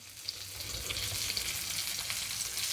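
Fish fries in oil in a pan, with more oil added at the side, making a continuous hissing sizzle that swells slightly and stays steady and close, with no talk.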